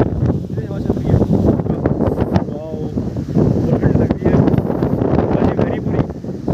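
Strong wind buffets the microphone near Laxman Jhula in Rishikesh, a loud continuous rumbling roar with gusty swells throughout, while someone talks over it.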